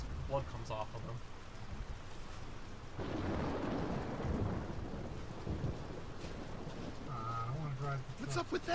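Rain and rumbling thunder in the video game Gears of War 2, a steady wash of rainfall swelling with a long low thunder roll midway, faint and distant, with game voices and effects over it.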